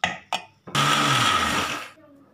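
A mixer grinder blends cooked greens with onion and tomato, starting after a couple of short knocks, running in a loud, close, steady whir for about a second, then spinning down.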